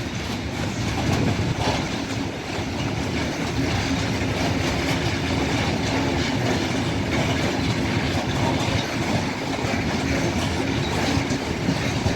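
A passenger pilgrimage train rolls through Częstochowa Stradom station in Poland, a loud steady rumble of wheels and cars with rhythmic clickety-clack over the rails, sustained and close with no talking.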